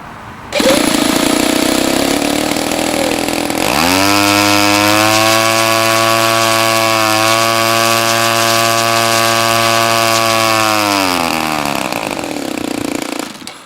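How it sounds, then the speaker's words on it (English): A small UAV engine cranks and catches, then runs loud and steady with a high, buzzing drone for several seconds before winding down. "we are ready to do an engine start test"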